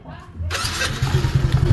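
A motorcycle engine kicks in and settles into a low, steady rumble, close by, with people talking over it.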